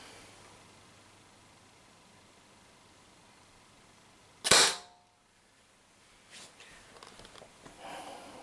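A Tippmann TCR paintball marker fires a single sharp, loud shot during a test, standing out against quiet room hiss, followed by faint handling noises.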